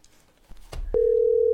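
A telephone call is being placed: a few faint clicks, then a steady continuous dial tone comes in loud and holds without a break.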